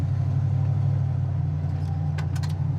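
A 1970 Mustang coupe cruising at highway speed, its engine a steady low droning hum with road and wind noise, continuous and close, a few brief higher rattles near the end and no voices.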